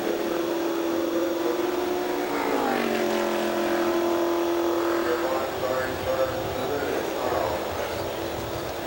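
Race cars at the 1999 Indianapolis 500 run at reduced pace behind the pace car, engine tones droning and sliding in pitch as cars pass, steady and mid-distance, with crowd and commentary-like murmur underneath.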